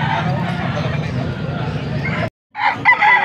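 A gamecock stag crows loudly and close in a long drawn-out call at a cockfighting bird sale in Angeles, Pampanga, then cuts off abruptly, followed by a brief second burst with an auctioneer's voice talking over it.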